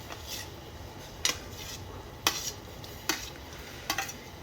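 Plum murabba pieces are stirred in boiling water, a spoon scraping the pot in a few distinct strokes roughly once a second, close and moderately quiet over a soft bubbling background, with no talk.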